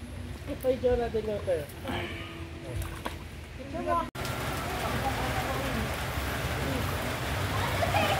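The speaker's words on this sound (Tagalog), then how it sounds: "Ayan na guys, umuulan na." Rain begins falling at an outdoor resort, first under chatter and voices, then turning into a steady, dense hiss of drops on surfaces that fills the air.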